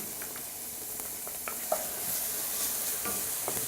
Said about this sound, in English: I'm putting in the celery.